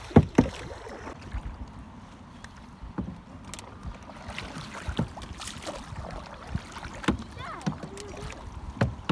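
A canoe is paddled on the Delaware River, with intermittent close splashes and knocks of paddle strokes over light wind and water noise, plus brief bits of nearby voices.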